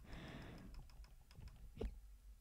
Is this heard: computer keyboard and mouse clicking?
yes